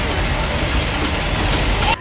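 Steady interior rumble of a passenger train during a first solo rail journey to Lonavala, a continuous close broadband roar with faint rattling that cuts off abruptly near the end.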